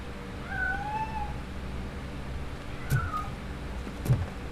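A cat meows in the Robocop: Rogue City video game, two rising, whining calls early on and another near the three-second mark, set against a low ambient hum with a couple of soft thuds.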